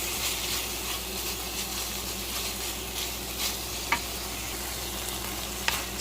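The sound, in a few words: ground beef with seasoning mix frying and being stirred in a pan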